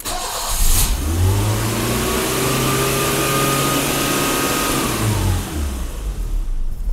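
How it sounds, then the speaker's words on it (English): A BMW E30 engine with an idle problem cranks and fires up, then revs up and down in a loud close sweep before settling back, with no talking. "Let's fire this thing up and see where the idle sits at now."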